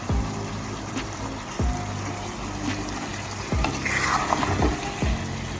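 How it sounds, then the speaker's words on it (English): Ackee seasoned with black pepper is gently stirred in a cooking pot for a Jamaican breakfast. A spoon sweeps and knocks against the pot several times over a soft, even sizzle. "stir it gently because we don't want to mash up ackee"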